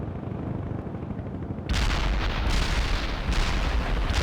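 Heavy artillery fire booms in the video game World in Conflict, a muffled low rumble giving way to loud, dense blasts and repeated gunfire bursts close by.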